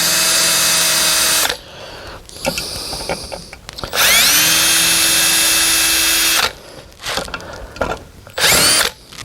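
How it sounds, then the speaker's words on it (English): A power drill whines in several bursts while restoring a 1952 Chevy pickup vent window, revving up and winding down between pauses, with quieter clicks and handling noises in the gaps. "It's a little hard getting your drill in there."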